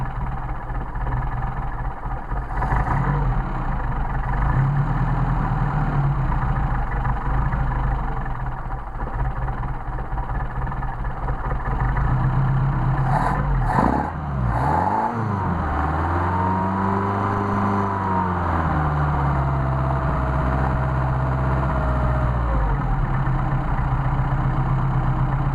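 A Mercedes 190SL engine on Solex carburetors idles steadily and loudly nearby, stumbles with a sputter midway, then rises and settles through a slow rev before returning to idle.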